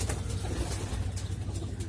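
Pigeons cooing close by in a continuous low, throaty rhythmic murmur, with no talk.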